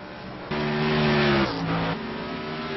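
A race car screams through the final turn at Sonoma Speedway, its engine note loud and high-revving with a sharp jump in pitch, then a shift and a slight drop before it drones on.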